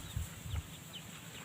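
Farm chickens on a rural Thai or Lao plot give two short low clucks close by, then a few faint chirps against quiet outdoor background noise.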